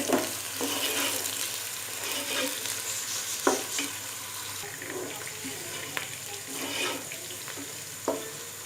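Onions frying and sizzling in a pan for brown chicken rice, a steady broadband hiss with occasional clinks of a stirring spoon, close and alone without talk.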